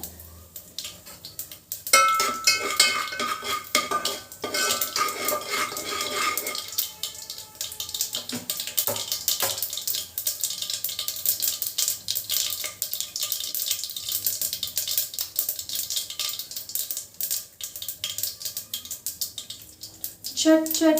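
Spices splutter and are stirred in hot oil while chutney is made, giving a close, continuous crackling sizzle with denser bursts early on and scraping stirs throughout.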